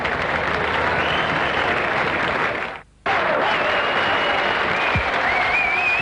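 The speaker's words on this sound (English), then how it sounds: "With applause here from this pretty good crowd in the McDonalds Cup Final." Crowd at the Adelaide Oval applauding during a one-day cricket final between South Australia and Western Australia, a broad, distant wash of clapping with a brief dropout midway before resuming.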